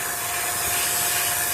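A vacuum pump evacuating a Rheem air conditioning system after a compressor replacement runs with a steady, loud, dense mechanical roar and hiss that never changes.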